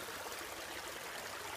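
Creek water in Creswick State Forest runs steadily as a broad, even rushing wash with a faint trickle, constant and unbroken throughout with no voices.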